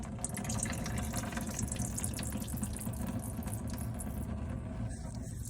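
Power steering fluid pours steadily from a slid-back reservoir hose on a Kenworth T680 truck, a continuous close liquid rush with a low rumble underneath, running without a break and with no talking.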